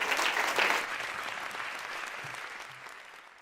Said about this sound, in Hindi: यार तालियां होनी चाहिए इस पे.